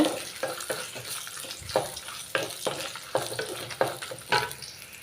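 Garlic and dried red chillies frying in oil, with a steady crackling sizzle punctuated by repeated scraping stirs of a spoon against the pan, close and fairly loud, with no talking.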